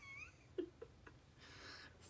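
A pet cat gives a couple of short, soft meows in a quiet room, close but faint, with a bit of rustling afterward.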